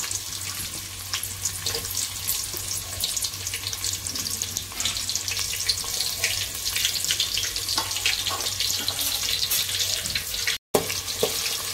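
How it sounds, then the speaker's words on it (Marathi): Chopped onion sizzling in heated oil in an Indian-style tempering for a mixed vegetable dish, a loud, continuous crackling fry with spitting pops that holds steady throughout, with no voices. "आता हे आपलं तेल तापलेलं आहे, त्याच्यात फोडणीला कांदा टाकते"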